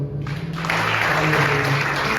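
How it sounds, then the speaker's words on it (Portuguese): A church congregation bursts into applause after a brief quieter moment, the clapping swelling into a dense, sustained wash that fills the space, with a low musical drone beneath. "aplauda o Senhor"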